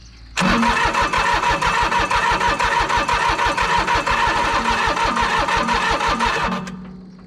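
After glow plugs heat, a Mitsubishi diesel engine on a long-neglected commercial mower cranks in one steady, loud, rapidly pulsing burst of about six seconds, then winds down without catching; no voices.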